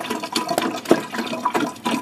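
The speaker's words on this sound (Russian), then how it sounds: "Заливаем чуть больше." Fuel being poured into a measuring container marked in litres while setting up a carburettor, a close, splashing liquid stream with gurgling bursts through about two seconds, no talk over it.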